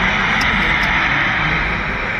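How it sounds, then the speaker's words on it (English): Air India 171 airliner engines heard in phone footage give a steady, broad, loud roar with a hiss that holds constant for the whole stretch, plus a few faint high ticks near the start. "you can definitely hear the engines of the airplane"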